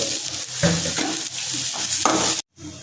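Dried red chillies, a Kashmiri chilli, ginger and curry leaves frying in a pan for spicy mango chutney, a close, continuous sizzle broken by stirring scrapes and clinks, stopping abruptly near the end.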